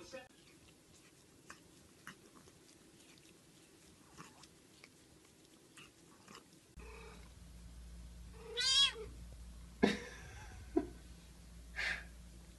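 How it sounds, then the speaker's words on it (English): An indoor house cat sitting on a desk gives a few short, close meows and soft breathy sounds in the second half, with quiet room noise and faint handling before. "You that little Bobo kitty sitting on that desk"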